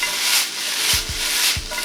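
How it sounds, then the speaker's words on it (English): Napa cabbage with salt cooks in a pan for shoyu-style ramen, giving a soft continuous scraping sizzle with a few brief low knocks near the end, close and alone. "In the same pan, add in a bit of Nappa cabbage and salt."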